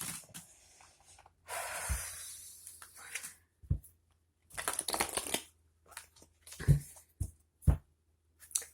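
A deck of oracle cards is shuffled close up in several separate riffling bursts, each a soft papery flutter, with brief quiet gaps and a few handling taps between them.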